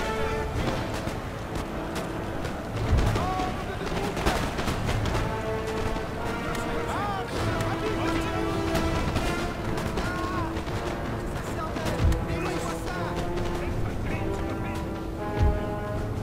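Musket volleys and cannon blasts from a Napoleonic battle in the strategy game Napoleon: Total War, with scattered gunfire cracks and heavier booms over a steady bed of battle noise and orchestral music across the whole stretch.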